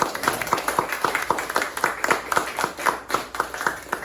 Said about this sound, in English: please give them a big, loud applause.